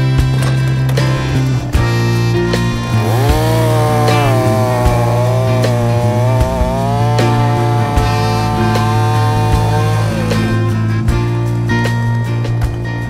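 A Husqvarna chainsaw fitted with a Triobrake cuts firewood, its engine droning loud and close without letup and dipping in pitch as the chain bites into the log.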